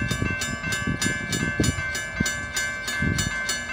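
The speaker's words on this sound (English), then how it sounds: "CSS Train Q464 on the Eastover Subdivision," A CSX freight train, Q464, passing on the Eastover Subdivision in Hopkins, South Carolina, with loud, close, rhythmic wheel clatter repeating about every third of a second over a steady rumble.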